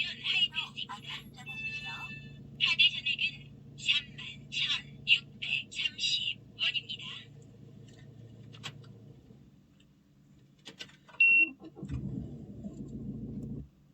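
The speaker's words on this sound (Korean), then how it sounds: "자, 제 차에 시동을 거는데요." Inside a Citroen DS3 1.6 with an engine fault warning, a series of short electronic chimes and clicks sounds first. Near the end the engine cranks and catches with a low rumble, close by, with no talking.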